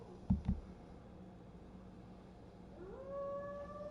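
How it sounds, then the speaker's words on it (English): A dog howls somewhere outside a window in a visual novel game scene, with a long rising, wavering tone held for about a second near the end, after a couple of dull thumps, moderately distant. "The dog is still howling somewhere outside the window."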